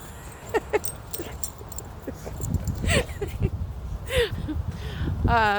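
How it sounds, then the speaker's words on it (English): Dogs whimper and yip in short high whines scattered across the clip, with a person talking nearby and a jingle near the end. "Dogs want me to play with them."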